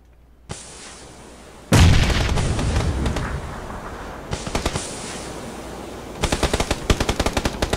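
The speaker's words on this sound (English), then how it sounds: "He's throwing nades." Grenade blasts and gunfire in PUBG, starting with a sudden heavy explosion and a long decaying roar, then isolated shots, then a rapid burst of automatic fire, loud and close with no talking.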